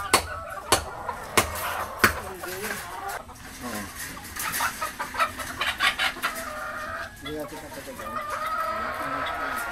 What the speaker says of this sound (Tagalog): Ito yung mga White Kelso.